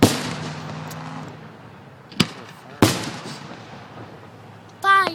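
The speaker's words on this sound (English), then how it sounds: "Fireworks." Fireworks burst at Bridgewater College in Virginia: two sharp, loud booms a little over half a second apart stand out against a hushed background, followed by a rising whistle at the end, with faint voices at the start.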